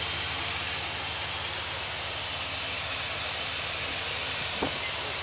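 A 5.9 engine in a Dodge Ram idles steadily after radiator hose work, a constant dense rumble heard up close, with one brief thump near the end.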